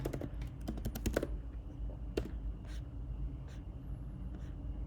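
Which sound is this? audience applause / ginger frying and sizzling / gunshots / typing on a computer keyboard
typing on a computer keyboard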